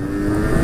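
Engine of an original Yamaha DT LC 50 motorcycle revving steadily and loud close up during a test ride, a dense low buzzing drone that swells slightly toward the end.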